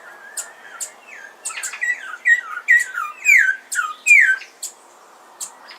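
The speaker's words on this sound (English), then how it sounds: "And that sound you just heard is the troupial." Troupial calling from cactus on Bonaire, a series of clear whistled and slurred notes in quick bursts, fairly near and alone against quiet surroundings.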